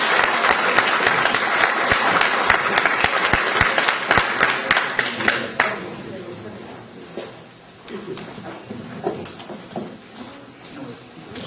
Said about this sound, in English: Please give her a round of applause for Ms. Condley.